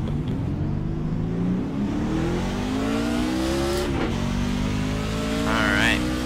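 Race car engine in the iRacing sim at Chicagoland Speedway, a loud, steady drone climbing in pitch through the gears as the car accelerates, close and continuous, with a brief shift dip near the middle and a faint squeal late.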